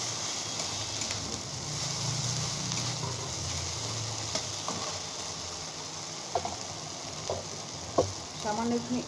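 Ground spice paste with turmeric, the turmeric ground into the paste itself, frying in a pan for a fish dish, giving a steady close sizzle throughout with a few sharp clicks of stirring toward the end.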